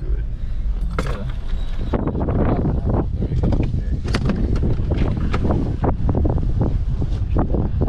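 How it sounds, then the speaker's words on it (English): Strong wind blows at the Lake Argyle dam wall in the Kimberley, Australia, buffeting the microphone with loud, continuous gusty rumble and bursts of crackling noise throughout. "It's just windy today."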